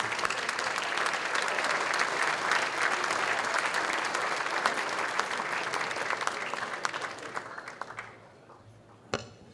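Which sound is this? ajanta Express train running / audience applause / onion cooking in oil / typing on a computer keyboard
audience applause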